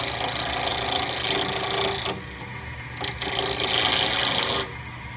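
A wooden pen blank spins on a lathe as a cutting tool scrapes against it, a steady close rasping hiss with a motor hum underneath, dropping briefly twice when the cut lifts.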